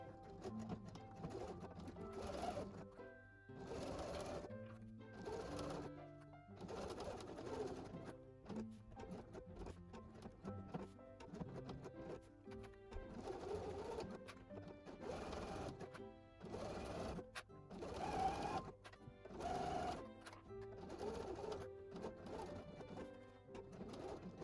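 A sewing machine stitches the lining seam of a fabric pouch with a quarter-inch seam allowance. Quiet bursts of rapid mechanical stitching run in and out over a bed of soft background music.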